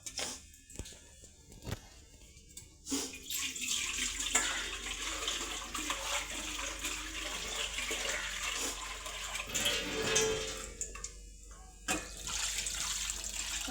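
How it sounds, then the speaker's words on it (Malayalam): Water poured into a pot of chicken curry, a rushing, splashing stream that starts and stops a few times amid some kitchen clatter. "നമുക്ക് ആവശ്യത്തിനുള്ള വെള്ളം ഒഴിച്ചു കൊടുക്കാം"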